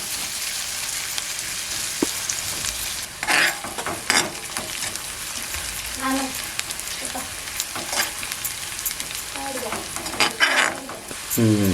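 Onion and garlic sizzle steadily in a hot pan in a Konkan home kitchen, with occasional scraping stirs cutting through the continuous crackling fry.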